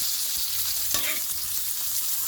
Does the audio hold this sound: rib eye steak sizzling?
yes